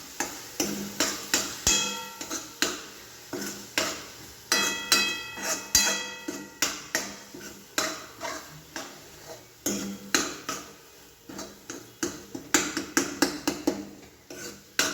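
A spoon stirs Gujarati baingan bhartha in a pan, making repeated close scraping and clinking knocks against the metal in an irregular, steady rhythm, with no talk over them.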